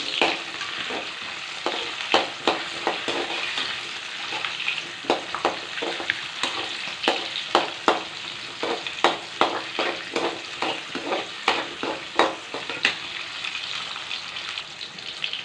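Sliced onion, slit green chilies and a small piece of ginger sauté in a pan, a steady sizzling hiss punctuated by repeated sharp scrapes and taps of a stirring spoon, close and moderately loud, with no talking.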